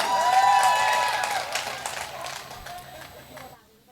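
Audience clapping at a Hindi poetry recital in Mawana, a broad patter of applause that is loudest at the start, thins out gradually and then cuts off near the end.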